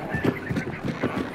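Chickens in the video game Hunt: Showdown squawk and cluck in a short, agitated burst of several rapid calls, fairly close and moderately loud.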